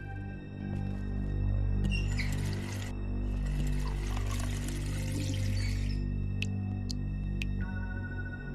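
Water being poured in The Wolf Among Us, heard as two steady pouring spells of about a second and three seconds, close and clear over a quiet ambient hum, then a few light ticks.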